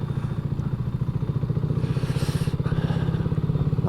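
An old BSA Gold Star motorcycle rides down a pedestrianised lane, its single-cylinder engine thumping in a steady, loud, close-up rhythm throughout, with faint clatter and rumble around it.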